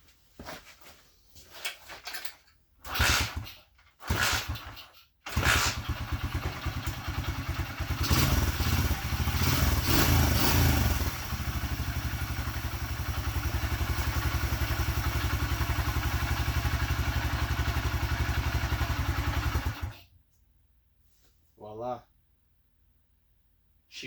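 A motorcycle engine fires up after work on its ignition points, with clunks and thumps before it catches. It then runs with a steady, loud low drone for about fifteen seconds before cutting off.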